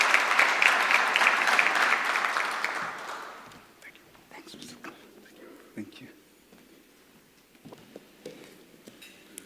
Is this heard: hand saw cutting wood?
no